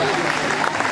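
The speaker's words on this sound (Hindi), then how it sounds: "तालियों की गूंज" Applause at a college farewell function for an art and craft college in Patna, a brief burst of crowd clapping mixed with voices and background noise.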